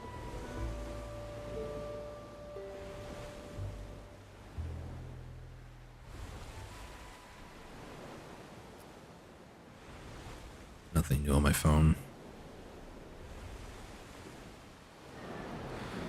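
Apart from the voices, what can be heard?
ocean waves crashing in video game Black Desert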